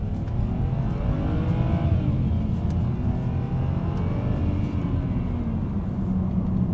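A BMW fitted with a Shadow throttle controller accelerates hard in drag racing mode, its loud engine note climbing steadily and continuously from inside the car, with no talk.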